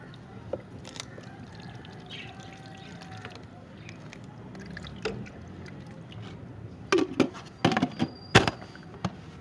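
Water poured out for pet birds at home, a soft trickle and dribble running through most of the stretch, joined near the end by louder clattering knocks and splashes, with faint background noise throughout.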